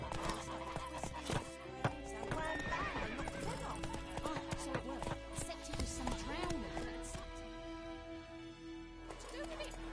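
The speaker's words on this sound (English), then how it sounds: "Whoa there, Roach." Roach, the horse in the video game The Witcher 3, trots with steady clip-clop hoofbeats throughout and lets out a few whinnies and snorts, close up, while a voice talks over the game sounds.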